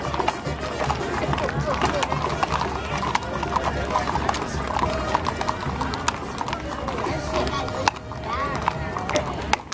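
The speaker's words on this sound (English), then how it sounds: "Look at this. Beautiful horses." Horses in the Wickenburg rodeo parade in 2011 clip-clop steadily along the street, a dense run of hoofbeats near and loud under crowd noise and people talking, with an occasional whinny.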